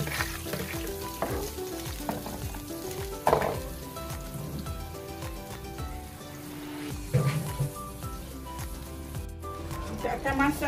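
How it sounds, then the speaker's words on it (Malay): Tom yam chili paste sizzles and spits in hot oil as it is stirred in a pan, a dense continuous frying crackle with scraping stirs, while someone talks over it. "saya dah panaskan minyak ni, kita tumis ya"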